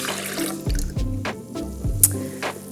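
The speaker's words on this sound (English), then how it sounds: "So we have some room temperature milk going in." Room-temperature milk pours into popover batter with a close liquid glugging and splashing, a few uneven gulps over a couple of seconds.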